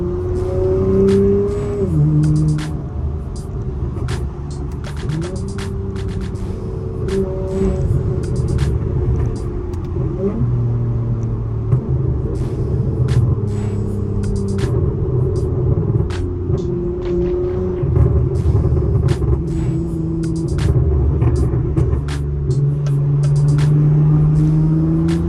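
An Acura TL's engine hums and rumbles steadily while being driven, with a cold transmission, as the revs rise and fall through shifts and road noise runs underneath, heard from inside the car without talking.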